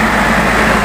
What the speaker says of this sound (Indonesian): Oh, genset ada di dalam truk